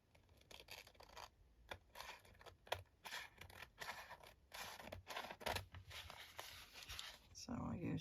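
Scissors snip through a glued paper napkin in a run of short, crisp cuts close by, with faint scratching between them and a voice talking underneath.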